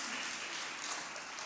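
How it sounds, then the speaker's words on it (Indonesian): Steady, moderate clapping from a church congregation during a Sunday worship service, a continuous even wash of hands without pauses, no voices over it. "Beri tepuk tangan buat Tuhan Yesus."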